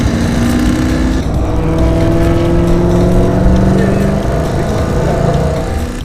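A race car on a circuit warm-up lap: a loud, continuous engine drone that holds its pitch with slight rises and falls, heard close and steady.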